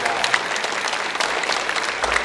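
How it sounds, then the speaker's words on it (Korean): Steady applause from a church congregation at a Sunday worship service, dense and continuous clapping filling the room for a couple of seconds, with no voices standing out. "하나님 앞에 한번 영광의 박수를 다시 한번 드립니다"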